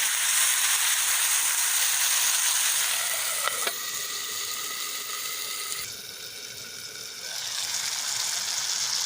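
Chopped tomatoes sizzle in a pan for a Gujarati cashew curry: a continuous, bright frying hiss that dips and swells, with a single sharp clack partway through.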